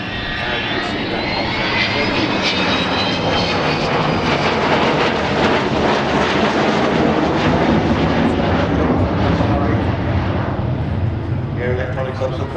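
Avro Vulcan bomber at the Farnborough airshow flying past with a loud, sustained roar of jet engines that swells and lingers, while a commentator talks over it.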